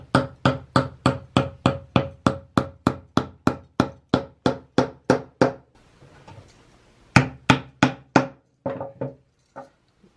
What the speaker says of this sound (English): So let's hammer those in.